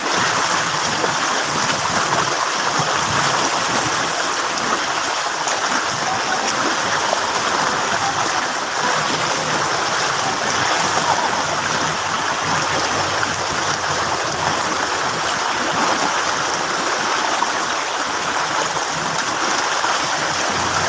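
Floodwater rushes through a street in Spain as a loud, continuous, even roar of flowing water that holds steady throughout, with no voices.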